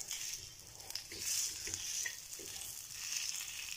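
Roasted spice masala sizzles and crackles steadily in hot oil in an iron kadhai while a black masala bitter gourd curry is prepared, a close, continuous fry with a few stirring scrapes and no talking.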